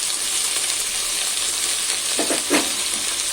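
Flat beans fry in a pan with a steady, close hiss and sizzle, broken near the end by a few short scraping stirs.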